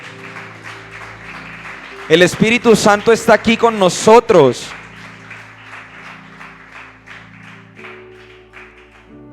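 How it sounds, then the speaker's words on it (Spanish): A church congregation breaks into a loud burst of applause for about two and a half seconds, clapping dense and energetic, between stretches of a preacher speaking over a soft sustained keyboard or organ backdrop. "¿Cuánto le dan un fuerte aplauso al Señor?"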